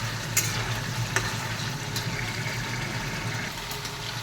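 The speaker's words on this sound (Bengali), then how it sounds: "বন্ধুরা, আদা রসুনটা ভালো করে ভেজে নিলাম।" Ginger and garlic fry in oil for a fish soup, a steady sizzle running throughout with a few sharper pops and clinks near the start and middle; no voices.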